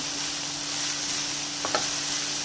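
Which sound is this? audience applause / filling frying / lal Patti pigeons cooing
filling frying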